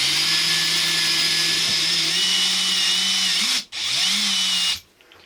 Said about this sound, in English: I've drilled these deliberately undersized so that I can increase them.